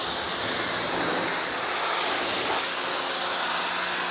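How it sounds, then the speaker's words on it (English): A small electric pressure washer blasts water onto a Mercedes-AMG GT43, a loud steady hiss with no talking. "It's just a little electric pressure washer."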